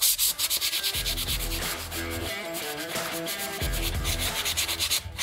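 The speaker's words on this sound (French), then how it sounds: "j'ai fini le ponçage" Plaster wall filler is sanded by hand with rhythmic back-and-forth rubbing strokes, loud and close, in quick repeated passes with brief pauses, no voices.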